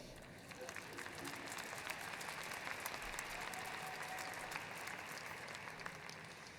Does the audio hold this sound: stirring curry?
no